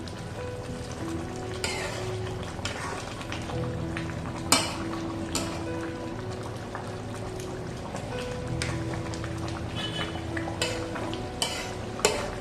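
Ginger and garlic paste being stirred in a chicken biryani pan, a steady scraping swirl with light frying underneath and a few sharp utensil clinks against the pan, close and fairly loud, no talking.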